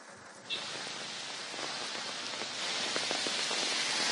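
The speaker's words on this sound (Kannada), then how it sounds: "ಅದೇ ಪ್ರಕಾರವಾಗಿ ಈಗ ಮಳೆ ಬರ್ತಾ ಇರುವಂತದ್ದು" Heavy rain pours steadily in a flooded residential area, a dense close hiss that grows slightly louder over the few seconds, with no voices.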